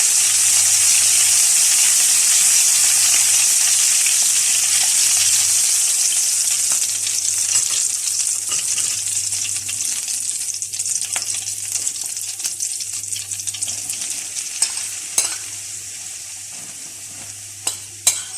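Garlic sizzles and fries in a hot pan with a steady bright hiss, occasional stirring clinks and scrapes toward the end, no voices.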